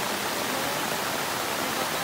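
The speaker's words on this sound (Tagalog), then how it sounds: "Tubig." Rushing floodwater from Typhoon Kristine pours through a residential street, a steady, loud broadband roar with no breaks across the whole stretch.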